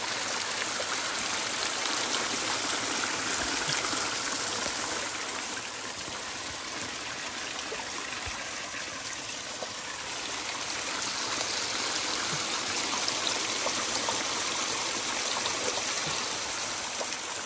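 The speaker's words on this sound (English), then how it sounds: "it's a nice little waterfall" A small waterfall spills into a stream on the Florida Trail, a steady, close rush of water that stays loud and unbroken throughout.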